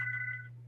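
A telephone rings once, a steady electronic two-tone ring that stops partway, heard faintly over a constant low hum in a quiet room.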